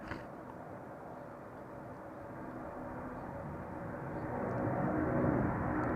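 A DHL Airbus A300-600 cargo plane takes off at Amsterdam Schiphol, its jet engine roar steady in the background and slowly swelling louder toward the end.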